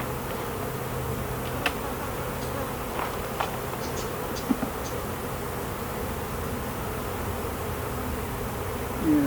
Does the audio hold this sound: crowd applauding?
no